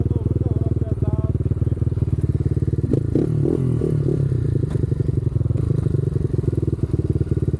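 A Yuki 300cc four-stroke enduro motorcycle rides off-road, its close, loud single-cylinder engine chugging steadily with rhythmic pulses, some revving and clattering over rough ground, and a rider talking over it.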